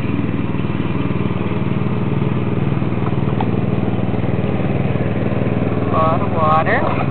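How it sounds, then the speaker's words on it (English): A lawn mower engine drones steadily and loudly close by for the whole stretch, a constant mid-pitched motor hum without pause. "Here comes the lawnmower."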